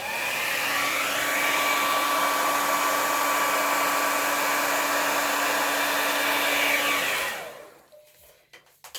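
A hair dryer blows steadily and loudly over a pen blank coated in CA finish, spinning on a turntable, its even whoosh holding for about seven seconds before cutting off and winding down into faint handling clicks.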